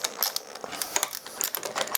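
Flange bolts being turned hand-tight on a Famos flange assembly training rig, giving a string of light metallic clicks and ratcheting taps at an irregular pace, fairly quiet and close, with no talking.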